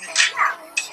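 A few high-pitched puppy yips, close and brief, the first two in quick succession and another after a short pause.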